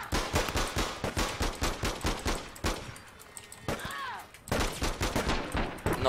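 Rapid automatic gunfire in APB Reloaded, close and loud, with fast bursts of shots separated by a brief pause before the shooting resumes.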